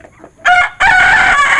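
An Elba rooster crows loudly and close, a short call followed by a long drawn-out crow, with faint clucking from hens before it.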